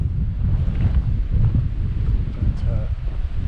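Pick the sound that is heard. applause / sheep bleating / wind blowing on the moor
wind blowing on the moor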